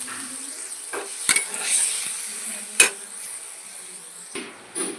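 Spice paste frying and being stirred in a pan for a fish curry, with a few sharp utensil clanks against the pot over a soft, steady sizzle, close by and with no talk.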